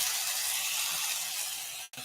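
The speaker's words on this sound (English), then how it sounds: "Jen says she can hear the sizzle." Venison loin chops sizzle in a hot pan with Worcestershire, a steady close hiss of frying that cuts off abruptly near the end.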